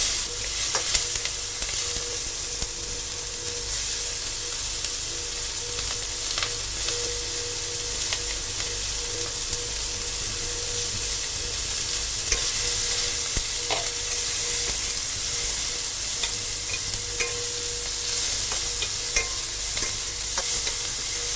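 Onion and green chilli fry in a pan with a steady hissing sizzle, while occasional soft scrapes and taps of a spatula come through close by, and no one speaks.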